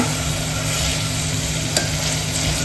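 Ingredients for a Maharashtrian val (field bean) khichdi stirred in a hot pan, an even, continuous sizzle and scraping, close up with no voices.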